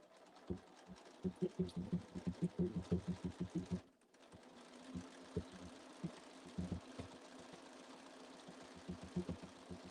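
Sewing machine stitching binding around a Little Miss and Mr Men cushion: a close, rapid run of rhythmic needle thumps, a short pause, then further bursts of stitching at a quieter, uneven pace.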